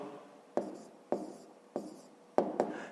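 A pen writes answers for a fifth-grade math exercise on paper, with five short, crisp scratching strokes spaced about half a second apart in a quiet room.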